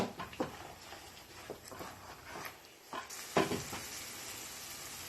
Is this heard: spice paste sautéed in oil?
yes